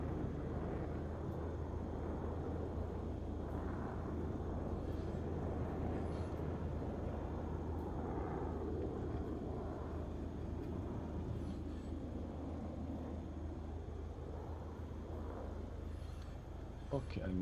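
Steady, droning engine hum of an aircraft taxiing in a flight simulator, a constant low rumble throughout with no clear changes.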